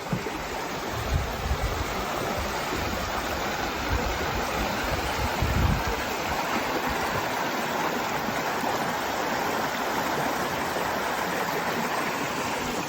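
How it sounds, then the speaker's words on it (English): A creek along the Appalachian Trail flows with a steady, broad rushing wash of water close by, continuous and fairly loud, with occasional low wind buffeting and no voices. "Oh boy, here's a nice creek."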